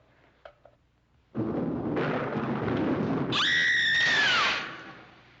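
Storm with thunder bursts in suddenly after near silence, a loud sustained rumble and crash that swells, joined by a high, falling scream-like tone, then fades out.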